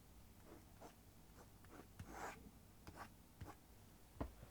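A pen scratches out a rough 3D sketch on paper in a classroom lecture setting, giving a string of brief, quiet strokes and scrapes spaced irregularly over a faint background hum.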